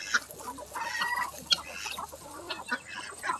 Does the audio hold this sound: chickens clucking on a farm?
yes